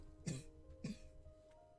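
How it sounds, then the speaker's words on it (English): Two short, loud coughs from one person at close range, about half a second apart, with faint room hum between them and no talking. "excuse me, I'm gonna cough."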